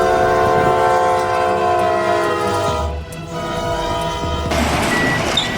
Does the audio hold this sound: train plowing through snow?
yes